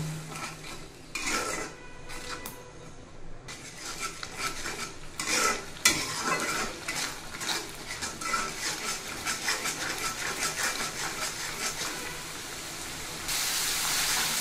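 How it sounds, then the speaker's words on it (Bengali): Masala loosened with a little water being sautéed and stirred in a pan for a chicken rezala, with repeated scraping strokes and clinks over a continuous close sizzle and hiss that grows steadier toward the end. "এবার বেশ ভালোভাবে কষিয়ে নেব।"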